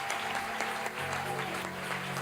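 A church congregation applauds and cheers in acclamation during worship, a steady wash of clapping with a sustained musical tone beneath it.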